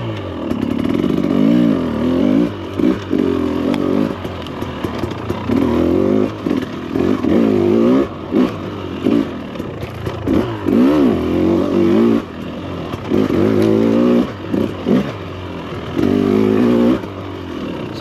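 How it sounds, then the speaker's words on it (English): A 2024 Husqvarna TE300 Pro dirt bike rides spring trails, its engine close and loud, revving up and dropping off in repeated bursts, with clattering and scraping between throttle blips and no voices. "this is the first ride of spring and I'm just getting used to the new bike"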